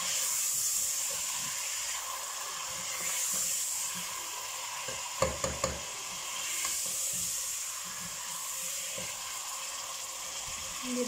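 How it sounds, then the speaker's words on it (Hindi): Chicken browning with ginger and spices in a hot pan gives a steady, close sizzle and hiss. A few brief clatters of stirring cut through it midway. "अब इस अदरक और मसालों के साथ आप चिकन को अच्छी तरह से भून लें।"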